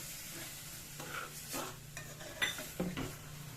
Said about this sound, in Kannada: ಗಂಟಾಗ ಇರೋ ಥರ ನೀವು ಇದನ್ನು ಚೆನ್ನಾಗಿ ಫ್ರೈ ಮಾಡ್ಕೋಬೇಕು